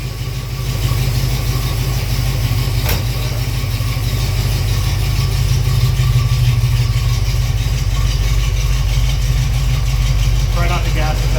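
A 1968 Pontiac Firebird engine idles close by with a steady, deep, even rumble that stays loud and unbroken, while a voice is also present in the background.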